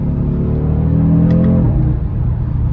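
An Audi engine revs loudly with a deep, throaty rumble, rising in pitch before easing off near the end, close and alone.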